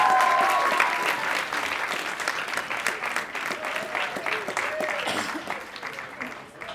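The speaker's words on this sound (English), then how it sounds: "can you all give a round of applause to my fantastic mum" Warm applause from the crowd at a community volunteer awards evening honoring a volunteer's mother, many hands clapping steadily with some voices mixed in, fading slightly toward the end.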